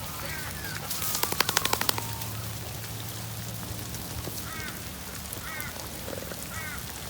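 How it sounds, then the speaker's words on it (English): Steady rain patters in a soft, constant wash outdoors on a farm, with a quick burst of sharp clicks early on and faint croaking calls. "Getting a little bit rainy."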